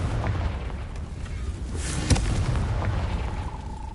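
A Confringo blasting spell in the Hogwarts Legacy video game detonates with a sharp booming burst amid a rumbling, crackling game soundscape, one main hit standing out briefly.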